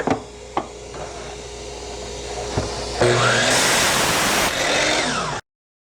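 A power saw squares up the ends of wooden pieces for a foundry flask, with a few sharp knocks and a steady motor hum, then a loud, harsh burst of cutting noise before it stops abruptly.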